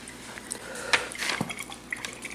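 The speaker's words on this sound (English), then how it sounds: "I just want to kind of pour some on the bottom." Liquid poured over the bottom of a smoked Texas-style brisket with Cajun seasoning, a soft trickling splash with scattered drips and small knocks of a container, fairly quiet and close.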